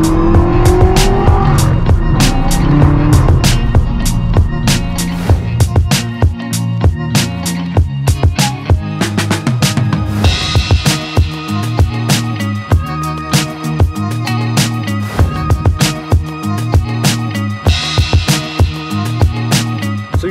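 An 800-horsepower manual BMW M6 Gran Coupe with a loud exhaust revs up with rising engine tones, then gives a long run of sharp, close crackles and pops, alone without talk.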